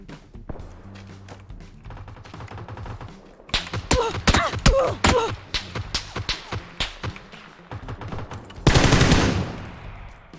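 Gunfire in the battle royale game PUBG (Battlegrounds), with a quick run of close, sharp automatic shots followed by scattered single cracks and a final burst, set over quieter game background.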